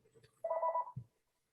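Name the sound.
telephone ringing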